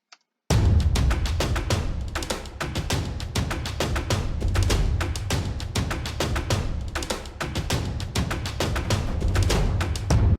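Cinematic percussion hits layered with a full drum part in FL Studio, a dense, driving barrage of rapid booming and snapping strikes played continuously and loudly for about ten seconds, with no voices.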